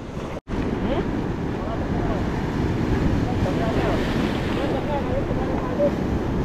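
Sea waves wash and roar around a small fishing boat at night, a steady broad rush mixed with wind buffeting the microphone, continuous and fairly loud.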